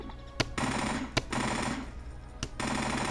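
Rapid machine-gun fire in Garry's Mod, a dense continuous rattle broken by three sharp louder bangs at short intervals, close and loud with no talk.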